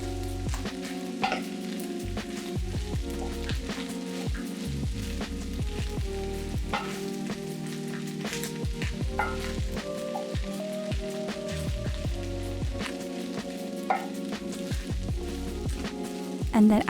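Kimchi and bacon fried rice crackles and sizzles in a hot pan as it is stirred, a steady dense popping with sharp spatula scrapes and clicks over a constant low hum.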